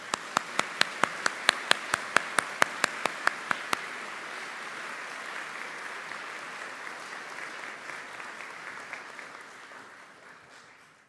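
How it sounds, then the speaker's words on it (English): Applause at a Baptist college commencement ceremony: a few sharp, evenly spaced claps up close for the first few seconds, then a steady wash of crowd clapping that slowly fades toward the end. "Let's give them a round of applause."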